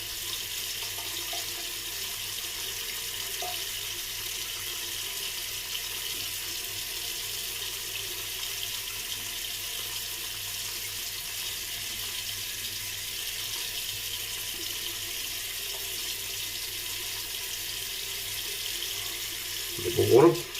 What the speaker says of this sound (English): you wet your hands and you put water to it.